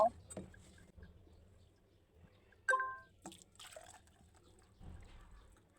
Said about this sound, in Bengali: এখন আমি বাটিতে কাস্টারগুলো ঢেলে নেব